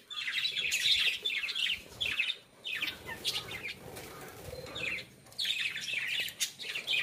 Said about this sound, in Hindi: ये देखो कितने अच्छी चिड़िया है, लव बर्ड्स को बोलते हैं।